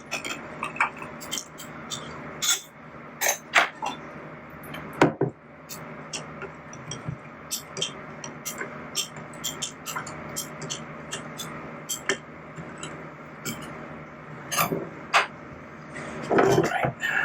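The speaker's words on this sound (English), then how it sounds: "I'm gonna stir it pretty well because of the flake settles on the bottom" Flake-filled bait colour being stirred in a container, heard as a long run of irregular, close ticks, taps and scrapes against the container walls, some sharp and some soft, with no talk over them.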